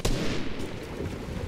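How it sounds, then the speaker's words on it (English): A gunshot from a weapon in the video game Fortnite, a loud, close blast that fills the whole short moment and rolls on with a dense, booming tail. "I just shot him out of the air"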